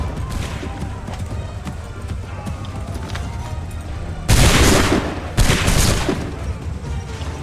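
Musket volleys in Assassin's Creed III, two loud massed bursts of gunfire crashing out one after the other over a busy battlefield din of shouts and distant shots.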